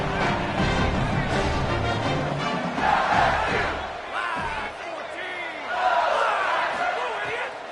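LSU stadium crowd at a Texas vs LSU football game yells and screams in loud surging waves, swelling and easing over several seconds while a commentator talks over it.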